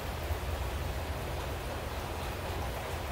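Steady rain falling outside a forge, a soft even hiss of drops on surfaces with no breaks, moderately distant and faint, without any talk.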